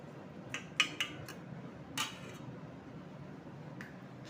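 Rice being stirred with turmeric colouring for coconut rice, giving a few soft, sparse clinks and scrapes of a spoon against a pot, close and quiet, with no talking.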